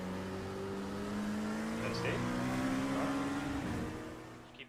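A sim race car engine on a virtual track with a bus stop chicane, droning steadily with rising and shifting pitch as it accelerates, while a voice talks over it.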